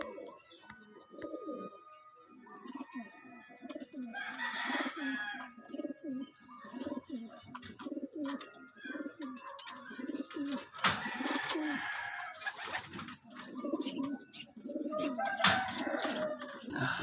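Homing pigeons coo softly as they return from training to the loft, with repeated low coos and occasional chirps close by, and a person speaks quietly between them.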